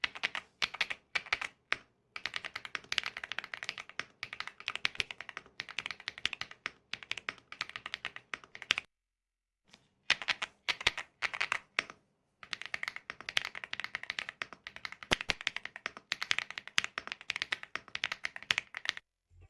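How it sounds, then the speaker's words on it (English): Steady bursts of typing on a keyboard with factory keycaps and switches, rapid clacky keystrokes in close succession with brief pauses, recorded up close with no voices. "Below is a comparison of the typing sounds in this state."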